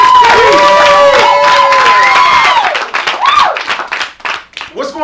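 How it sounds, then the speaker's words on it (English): A studio audience at a party-style comedy show claps and cheers for an arriving guest, loud dense applause with whoops and shouts over someone talking, fading toward the end. "Y'all start clapping right now"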